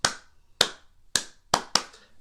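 Five sharp hand claps, slightly uneven rhythm, echoed back by first-grade students in a music lesson, close and clear with brief pauses between.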